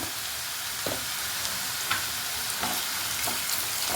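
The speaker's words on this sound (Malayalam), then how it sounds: "സവോളയുടെ പച്ചമണമൊക്കെ ഒന്ന് മാറട്ടെ" Onion frying in a pan with a pinch of salt, giving a soft, even sizzle, with gentle spoon stirs and scrapes every second or so, fairly quiet and without speech.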